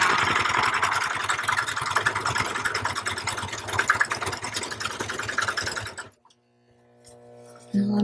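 A serger sewing machine runs loudly and steadily for about six seconds with a dense, rapid mechanical whir and clatter, then stops abruptly, leaving near silence before a faint hum returns.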